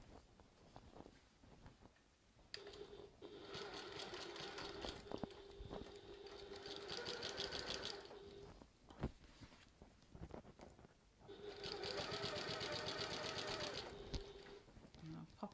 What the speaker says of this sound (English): I'm going to use my machine. I'm just going to whiz along using a really close top stitch